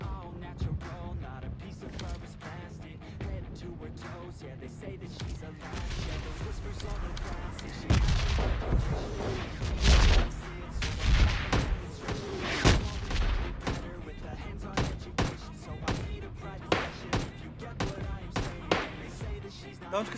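Gunfire in the battle-royale shooter PUBG Mobile crackles in bursts of sharp repeated shots, some single and some rapid volleys, louder in the middle, with someone talking over parts of it.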